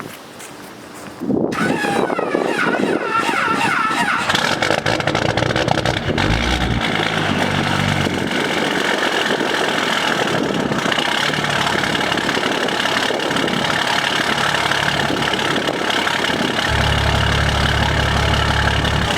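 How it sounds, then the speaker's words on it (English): An old truck's 12-valve Cummins diesel engine cranks briefly, fires right up and then settles into a loud, steady, clattering idle that runs uninterrupted to the end. "Pumped the throttle a little too much on that one, but it fired right up."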